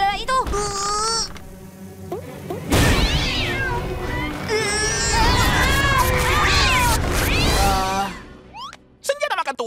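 Cartoon cats meow repeatedly in a loud, busy scene, with rising and falling cries that overlap other voices and buzzing effects, and characters speak throughout.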